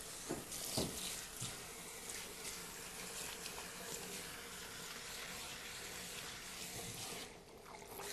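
Steady rush of water from a salon shower head rinsing hair during a shampoo, a continuous broadband spray with occasional splashy bursts, close and fairly loud throughout with no talking.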